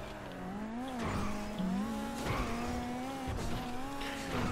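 A Dominator muscle car, a Mustang-style model in GTA V Online, drives with a steady engine drone that rises and dips with throttle, with occasional tire squeal, continuous and fairly loud with no talk over it.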